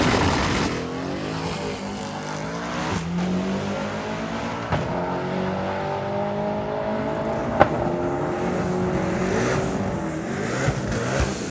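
Tuned S197 Mustang GT race car running at a drag track, its loud engine roaring steadily with rising and falling pitch sweeps as it revs through gears, heard close and alone.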